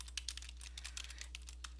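Typing on a computer keyboard in a fast, irregular run of light clicks, with the space bar pressed between words, close and fairly quiet over a low steady hum.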